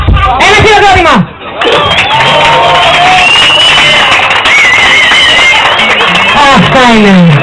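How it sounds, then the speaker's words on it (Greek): A lively crowd at a live music show at Concha Beach bar claps, cheers and whoops loudly, with overlapping shouted voices and babble mixed through the noisy, energetic response. "Ένα χειροκρότημα."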